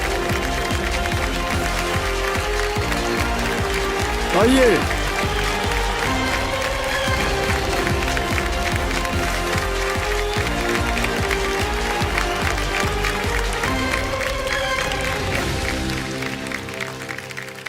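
Studio audience applause on the KBC (Kaun Banega Crorepati) quiz show welcomes a contestant; the clapping is blended into loud, steady show music throughout, with a brief spoken invitation from a host.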